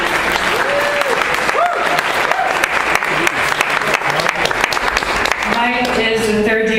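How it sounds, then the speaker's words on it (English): An audience applauds a student's work at a university talk, steady sustained clapping throughout with some voices and cheers near the end. "Let's give a round of applause for Mike's work."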